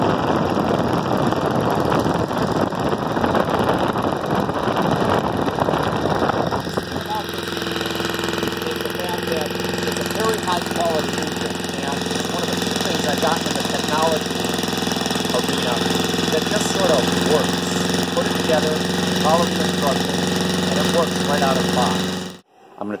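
Small engine of a hybrid drone generator running steadily, a loud close rattling drone with knocking texture that shifts in tone partway through, while a person talks over it.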